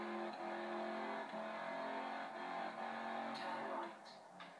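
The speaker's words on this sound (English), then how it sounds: "Right, the engine keeps cutting out now," A misfiring car engine in the Forza racing game drones steadily at low volume, wavering in tone and fading near the end, with no talking.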